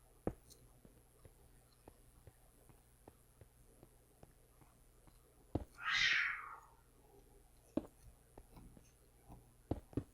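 A house cat gives one short meow partway through, distinct against a quiet room with scattered light clicks and taps.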